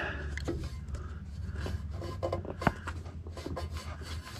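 Hose clamp being shifted on a fuel line barb during a diesel heater install in a truck, close scraping and rubbing with a few small metallic clicks over a low steady hum.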